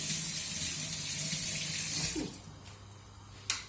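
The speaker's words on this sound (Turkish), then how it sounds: "Yumurtaları yıkayayım." Tap water runs steadily into a kitchen sink while eggs are washed, a close, continuous splashing stream that stops abruptly, followed by a short clatter.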